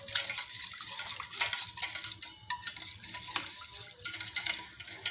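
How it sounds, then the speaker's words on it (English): A utensil stirs white pepper gravy mix with water in a bowl or pot, making quick, fairly quiet clinking and scraping strokes in an irregular rhythm with no talking. "We're going to get it all stirred."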